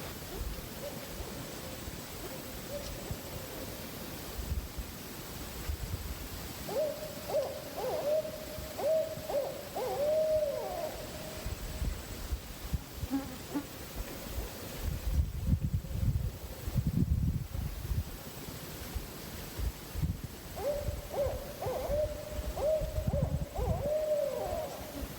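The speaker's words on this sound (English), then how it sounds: "what you can hear in the background is two owls, two hoot owls calling to one another" Two hoot owls call back and forth in the woods, rhythmic series of hoots repeating at intervals, faint and distant over light rustling and wind.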